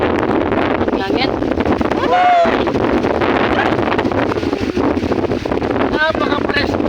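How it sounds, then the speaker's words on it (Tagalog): Steady, loud wind buffets the microphone on a mountain in a continuous roar, with a few brief voice-like sounds and faint background activity. "Napakalakas ng hangin."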